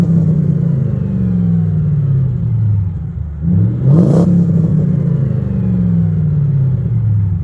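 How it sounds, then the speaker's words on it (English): A deep, rumbling V8 performance exhaust on a 1999 Mercedes CLK430 idles steadily, then blips into a sharp rev around the middle before settling back to a throaty drone. "you have yourself a performance exhaust"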